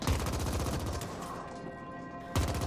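Rapid automatic gunfire in the twin-stick shooter game The Ascent, a dense continuous rattle of shots that thins mid-clip and then resumes loudly at the end.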